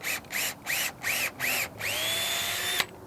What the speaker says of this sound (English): Pre-drill your hole